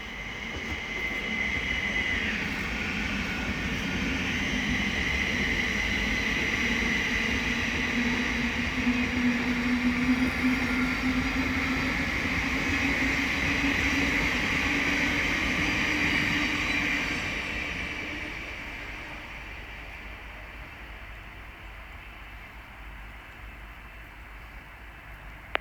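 A Thameslink Class 700 electric train from London Blackfriars to Bedford passes on the Midland Main Line at Elstow, a sustained rushing roar with a whining tone that builds, holds, then fades away.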